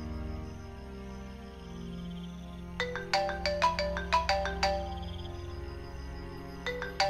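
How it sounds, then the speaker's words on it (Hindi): A mobile phone rings with an incoming call: a melodic electronic ringtone plays a quick run of bright tones, pauses, then starts again over a quiet background. "लो आ गया तुम्हारे क्लाइंट का फोन, रिसीव करो"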